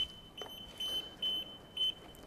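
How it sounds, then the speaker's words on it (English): A Plumb Guard MK2 live pipe detector sounds its alarm in repeated short, high, piercing beeps, about four in two seconds, fairly quiet and alone. "that's the only way of stopping the alarm, otherwise the alarm will continue to go"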